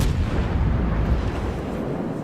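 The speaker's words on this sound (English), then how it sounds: "Another shell got hit on that ship." Heavy naval shell impacts rumble in World of Warships as a Bismarck battleship is struck and set on fire, a loud, deep, continuous booming roar that slowly fades.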